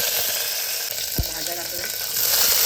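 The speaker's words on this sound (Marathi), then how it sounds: "तेल गरम झालं आहे, आता यामध्ये राई घालूया. पत्ता टाकते" Mustard seeds and curry leaves crackle and sizzle in hot oil while sambar is being made, giving a steady close hiss with a few sharp pops throughout.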